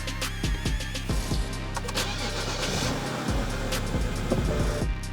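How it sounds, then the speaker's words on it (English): A BMW E90 engine cranks, starts and settles into a steady idle after a coolant hose replacement. Starter chatter sounds at first, then an even, close engine drone carries on alone. "And now let's go start the car."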